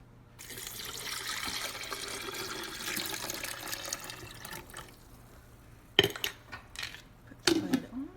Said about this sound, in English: And then I'm going to add 7 cups of water.